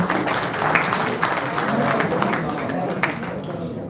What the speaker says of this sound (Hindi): तालियां तो दें।